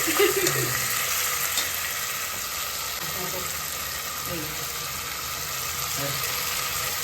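Onion and garam masala fry in a pan while a biryani is cooked at home, giving a soft, steady sizzle with occasional stirring scrapes, fairly quiet and close, with faint background voices.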